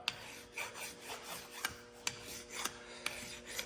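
Hand file rasping burrs off a Jeep 5.13 ring gear clamped in a vise, a steady scraping with a few sharper clicks of the file tipping, close and moderately loud with no talk.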